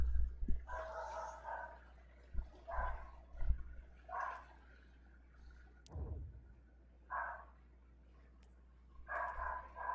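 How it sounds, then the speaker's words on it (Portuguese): A neighbour's dog barks in short separate bursts, some louder and some softer, spread unevenly across the stretch with quiet gaps and a few low thumps between them. "Começou o Satanás do cachorro do vizinho fazer besteira."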